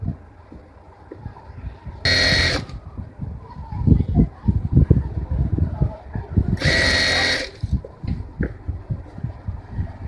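A sewing machine runs in two short bursts while stitching a petticoat seam, each a brief buzzing whir about half a second long, separated by irregular handling knocks and faint voices.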